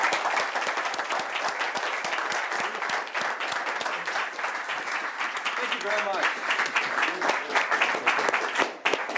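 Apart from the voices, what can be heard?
audience applause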